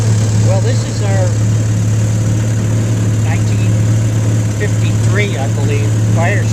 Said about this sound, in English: It's a motor made by Scott Atwater for the Firestone Tire and Rubber Company.